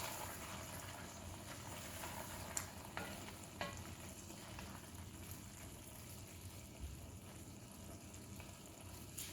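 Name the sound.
stirring curry ingredients together in a pan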